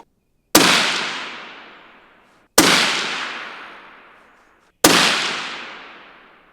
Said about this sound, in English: you've never shot 260. Let's see what your 3-shot group does